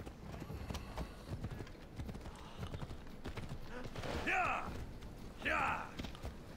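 Horse hooves clip-clop in Assassin's Creed Odyssey, a steady walking gait of game sound effects heard fairly close, with two brighter bursts of movement partway through.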